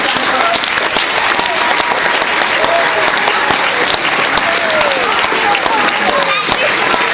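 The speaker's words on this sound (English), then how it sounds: "So with a big round of applause, thank you, Jane Herson, for all that you do" A large graduation ceremony audience applauds loudly and continuously, a thick, steady roar of clapping with voices and cheers mixed in throughout.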